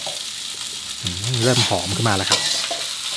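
Fried rice with canned fish is stir-fried in a wok, making a constant crackling sizzle with scraping while someone speaks over it.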